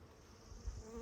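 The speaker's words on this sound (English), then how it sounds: "these bees right here are Italian bees" Italian honeybees buzz steadily at a beehive in a bee yard, a close, continuous insect drone that swells slightly toward the end with no voices.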